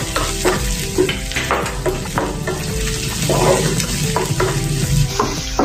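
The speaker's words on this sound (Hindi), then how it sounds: "इसको भी 2 मिनट भून लेंगे, अदरक लहसुन के पेस्ट को।" Ginger garlic paste frying with onions in a pan, a loud continuous sizzle broken by repeated scraping stirs of a spoon, close and steady with no talk.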